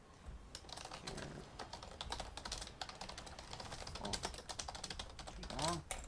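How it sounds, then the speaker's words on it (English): Steady rapid keyboard typing with dense clicking keystrokes, close by, running throughout with faint Heroes of the Storm game sounds in the background. "And in that time, I was typing"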